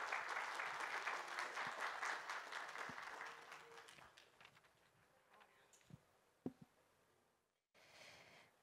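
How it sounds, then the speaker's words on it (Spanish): An audience at a technical event on mineral processing and extractive metallurgy claps loudly, then the applause gradually fades into scattered claps and a few isolated knocks before a short final burst of clapping. "Un aplauso, por favor"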